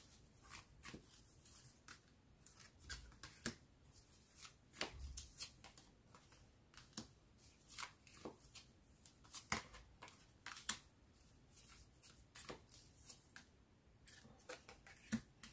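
Tarot cards being shuffled by hand for a reading, a steady run of soft riffling and flicking bursts with occasional sharper snaps, close and fairly quiet with no talking.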